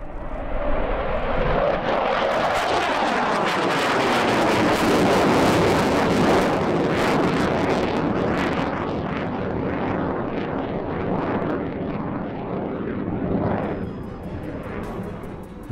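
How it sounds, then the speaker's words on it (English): A MiG-29 fighter jet roars loudly through an airshow display pass, its engine noise swelling and sweeping in pitch, then slowly fading into a distant rumble with wind buffeting. "of the MiG-29's epic manoeuvrability"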